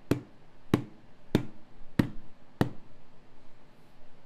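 Five soft, dull bass or palm strokes on a conga, spaced about two-thirds of a second apart, fairly quiet and close with a faint room background between hits.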